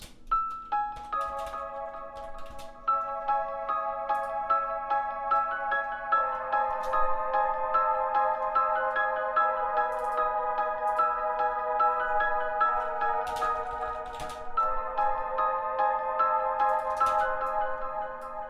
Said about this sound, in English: I might just go ahead and move it to my choir delay patch